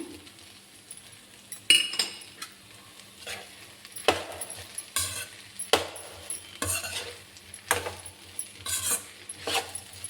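Garlic frying with okra (bendakai) in a pan on low heat: a quiet background sizzle broken by repeated sharp spatula scrapes and clinks against the pan at irregular intervals.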